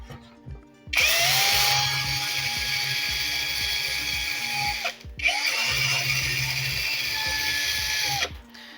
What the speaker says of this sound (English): now I'm going to sand it down a little bit more